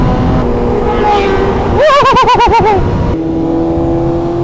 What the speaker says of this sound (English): that Turbo Busa sounds insane. I just heard the turbo just spooling up